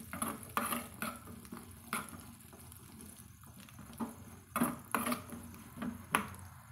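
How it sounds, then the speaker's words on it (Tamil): Cashews and raisins fry in ghee for boondi laddu, with faint sizzling under repeated light scraping and stirring clinks of a spoon against the pan. "கரிஞ்சிடாமல் நல்லா பொன்னிறமாக வறுத்து எடுத்துக்கலாங்க."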